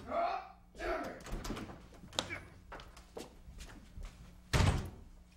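A door in a school building slams shut with one loud, heavy thud near the end, after a spell of scattered knocks, shuffling and muffled voices.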